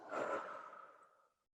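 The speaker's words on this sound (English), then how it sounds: "So take a deep breath in, hold it, and exhale." A single slow exhale after a held deep breath, a soft, breathy whoosh that rises quickly and tapers to silence over about a second, close and quiet.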